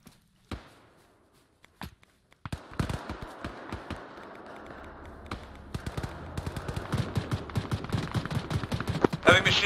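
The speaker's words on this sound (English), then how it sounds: "Heavy machine gun southwest. Mounted." In the ArmA 3 military game, a mounted heavy machine gun fires from a distance, first as scattered single cracks and then as dense, sustained bursts of rapid gunfire that grow louder toward the end, with no talking.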